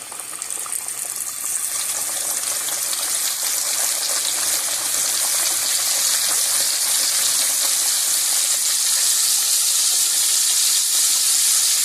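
Crispy chicken pieces fry in hot oil with a steady, loud, hissing sizzle that holds evenly throughout, close and continuous with no talking.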